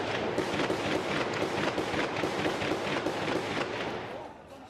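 Gunfire in street clashes in Egypt, a dense barrage of rapid machine-gun-like bursts at a distance, loud and continuous before fading slightly at the end, with no voices.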